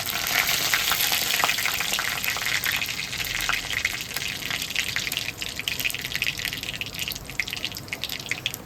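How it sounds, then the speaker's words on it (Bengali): Black cumin seeds and dried red chillies sizzle and spit in hot oil, a loud, steady, hissing fry with dense crackles that stays close and continuous, with no talking. "তেল গরম হয়ে গেছে বন্ধুরা। এতটা কালো জিরে দিয়ে দেবো আমি।"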